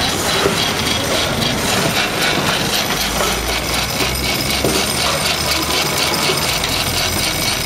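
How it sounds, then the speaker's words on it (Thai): A steam road roller engine revs with its valve opened, making a continuous loud mechanical chugging and hissing with rapid rhythmic pulses, close by and without talk. "เปิดวาล์วเลยครับเร่งเครื่อง"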